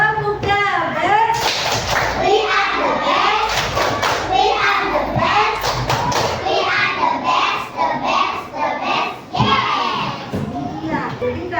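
Children clap in quick rhythmic patterns while chanting loudly together, with bursts of sharp hand claps and thuds among lively young voices nearby.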